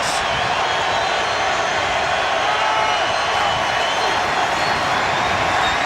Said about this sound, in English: The Bucs crowd gets loud on 3rd and 6.